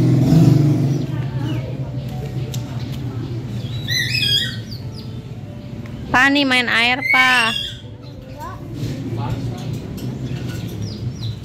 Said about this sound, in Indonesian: Nah itu ada burung di belakang aku ya teman-teman.